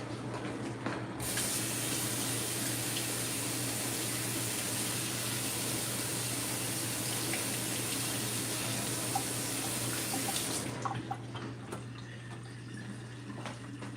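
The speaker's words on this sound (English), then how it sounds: "let me rinse these tomatoes off" Tap water runs steadily over fresh garden tomatoes being rinsed in a sink, a constant close splashing hiss that starts abruptly and cuts off near the end, with no talking.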